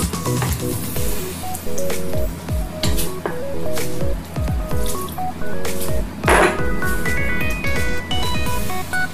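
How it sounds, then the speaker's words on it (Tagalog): Heavy cream and a splash of water going into a hot pan beside rib-eye steak and garlic shrimp, giving a steady sizzle with squishy, bubbling liquid sounds and occasional clinks of utensil against the pan, close and loud with no talking. "We can now add the heavy cream and 1/4 cup of water."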